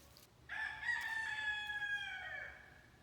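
A young Americauna-cross rooster crows once in his new coop with his flock of hens, a clear, sustained cock-a-doodle-doo of about two seconds, fairly close, over a faint background hum.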